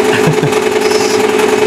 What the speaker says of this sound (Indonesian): ini pemirsa cara proses bagaimana printer yang didatangkan dari Norwegia